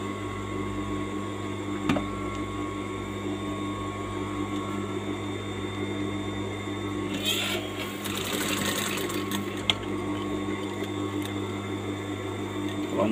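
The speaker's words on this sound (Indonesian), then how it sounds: "tinggal kita jahit bagian ini." A sewing machine stitches a pocket seam with a steady close mechanical hum and whir, growing busier midway, with occasional clicks and faint talk in the background.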